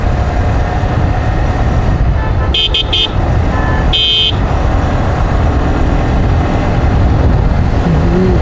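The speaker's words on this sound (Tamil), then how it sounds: "பயங்கர டிராஃபிக்காக இருக்குங்க." Dense road traffic in Coimbatore, India: a constant loud roar of engines with a few short horn toots, then a longer honk near the middle, all close and continuous.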